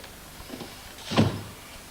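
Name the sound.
door being shut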